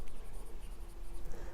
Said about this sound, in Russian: Взяли ручку и пишем в рабочей тетради.